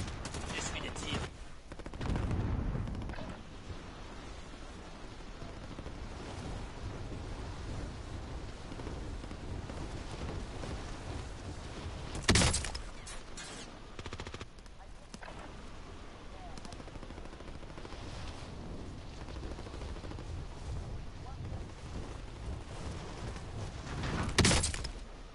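Call of Duty gunfire in an online match: scattered bursts and a couple of sharp loud shots over a steady hum of game noise, fairly faint overall, with occasional talk.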